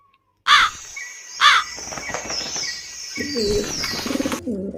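Two sharp, close cartoon crow caws ring out in a Hindi animated cartoon, followed by lighter chirping and cooing bird calls.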